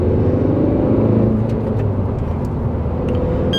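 A Hyundai Venue's four-cylinder engine drones loudly and steadily from inside the car, with a slight rise and fall in revs and no speech.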